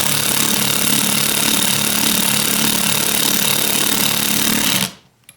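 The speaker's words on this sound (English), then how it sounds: "See if this drill still has battery power." A cordless power drill driving screws whirs steadily and loudly for about five seconds, then cuts off abruptly, leaving a brief faint clatter.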